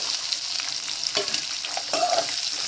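Chopped onions frying in a pan for cabbage poriyal, a close, steady sizzle broken by a couple of scraping stirs of a spoon.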